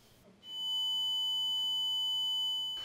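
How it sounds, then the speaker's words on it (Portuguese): A high, steady, pure ringing tone comes in after a moment and holds unbroken, alone against near silence. "É um zumbido que pega no teu ouvido e fica o tempo todo"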